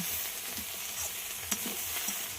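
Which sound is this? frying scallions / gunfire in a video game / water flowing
frying scallions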